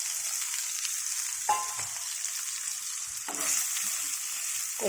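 Ridge gourd pieces frying in oil in a pan while being stirred, giving a steady, close hiss with two short scraping stirs partway through and no speech.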